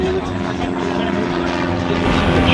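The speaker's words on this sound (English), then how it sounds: "We got a goddamn airplane in the parking lot here." Propeller airplane engine running in a parking lot at a gearhead car and motorcycle meet, a loud continuous droning hum with a steady tone throughout.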